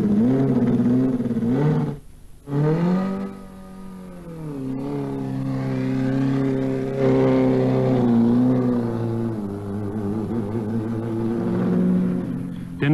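Zakspeed 841 Formula 1 car on its 1984 first test run at the Nürburgring, engine note rising and holding in a long sustained howl, dipping briefly near the start before climbing again, loud and continuous.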